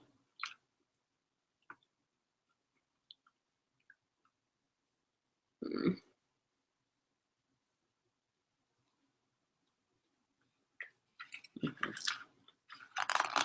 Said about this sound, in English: I'm tired of chewing.